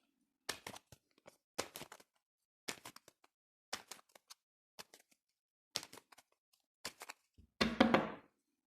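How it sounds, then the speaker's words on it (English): Shuffling a Rider Waite tarot card deck: a series of sharp, close taps and snaps of the cards at irregular intervals in a quiet room, ending in a longer riffling burst. "Let's shuffle the cards."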